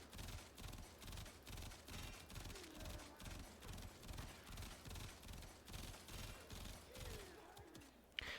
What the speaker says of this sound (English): So on the first row, I'm going to be using the burst, which is what I usually do.